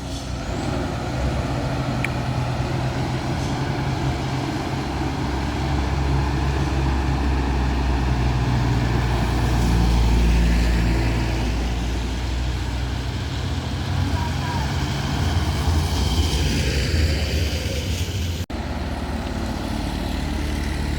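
Trailer truck straining up a steep incline, its engine droning low and heavy with revving swells, a brief air-brake hiss, and people talking over the rumble.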